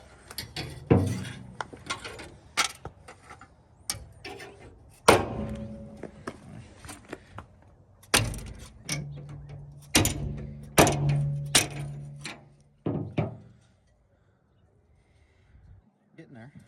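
A hammer strikes a damaged bumper off a 2018 Ram 3500 in a body shop, with repeated loud metallic whacks in uneven bursts. Some hits leave a ringing tone before a quiet pause near the end.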